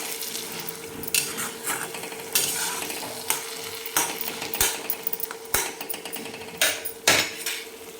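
Onion tomato chutney being mixed in a pan with coriander added, a spoon clanking and scraping against the metal pan in repeated sharp knocks over a faint sizzle, no voices.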